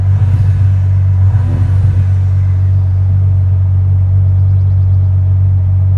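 A Ferrari 12Cilindri's engine holds a loud, steady low drone throughout, heard from inside the car, with a brief rise in revs early on and no talking.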